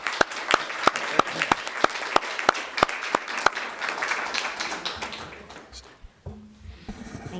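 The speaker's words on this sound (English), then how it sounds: "give them a round of applause" Audience at a school district board meeting applauding students, with a steady burst of clapping from many people that fades out after about five seconds, leaving faint room noise and a little talk.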